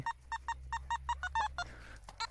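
A metal detector gives a signal over a target at a new dig site: a rapid, regular run of short, sharp electronic beeps, about a dozen, loud and close, then a brief pause and a last couple of beeps.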